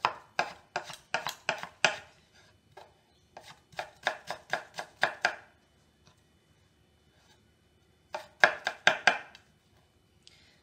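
A knife mincing ginger on a cutting board makes rapid bursts of close, crisp chopping taps, in three separate runs with short pauses between them.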